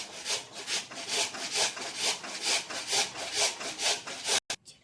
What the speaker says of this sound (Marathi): हा भोपळा किसून घेतला.